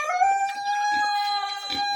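A rooster crows nearby on a village farm, one long, loud, drawn-out call that carries over faint background sounds.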